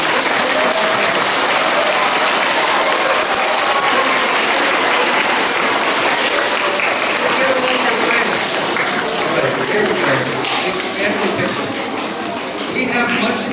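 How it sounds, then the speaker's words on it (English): A school audience at an elementary school playground dedication gives long, loud, sustained applause, a dense wash of many hands clapping that fades slightly toward the end. "let's give a big round of applause"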